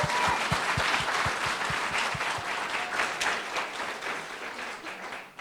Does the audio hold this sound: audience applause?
yes